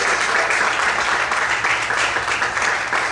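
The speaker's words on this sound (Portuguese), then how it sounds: "Quantos podem aplaudir o Senhor essa manhã?" Loud, dense applause from a church congregation during a morning service, a continuous wash of many clapping hands sustained evenly throughout.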